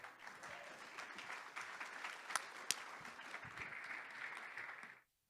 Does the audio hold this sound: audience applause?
yes